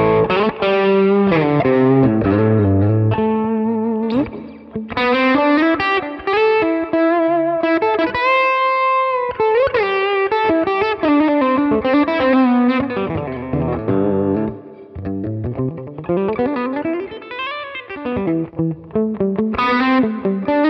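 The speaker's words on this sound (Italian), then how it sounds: "Proviamo a mettere un pochino di overdrive per sentire" Strandberg electric guitar played through a light overdrive, with chorus and reverb effects, running through a flowing, melodic passage of chords and single-note runs; close, steady and loud, with no talking.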